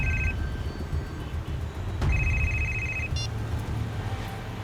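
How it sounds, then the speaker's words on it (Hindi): A telephone rings twice in a police drama scene, short bursts of electronic ringing with a pause between them, heard over a low rumbling vehicle interior and faint background noise. "इसी वक्त एक फोन आना था"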